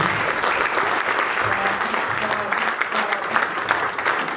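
A crowd at a Lafarge Holcim team-building event in Assinie, 2024, applauds the team captain with dense, steady clapping that holds at full strength throughout, with faint voices mixed in.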